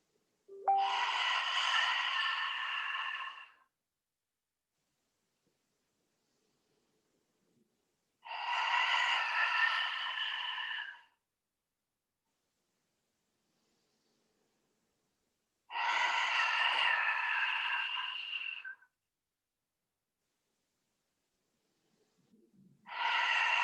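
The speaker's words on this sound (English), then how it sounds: "breathing in and then out with the tongue" Lion breath yoga exhalations pushed out with the tongue extended, three long forceful breathy roars about three seconds each, separated by quiet pauses, with a fourth beginning at the end; no talking.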